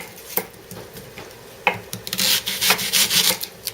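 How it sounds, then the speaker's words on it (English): Two medium-sized onions being fed through a kitchen shredder, giving a run of rough rasping, grating scrapes that start as scattered knocks and build into a dense, continuous shredding noise, close by with no talking. "I have 2 medium-sized onions that I'm going to run through my shredder"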